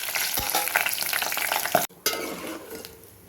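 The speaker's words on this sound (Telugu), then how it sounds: "ఇప్పుడు పోపు గింజలు కూడా వేస్తున్నాను." Tempering seeds crackle and sizzle in hot oil in a pot while making mint chutney, a loud continuous frying hiss with stirring scrapes, cut off briefly before resuming.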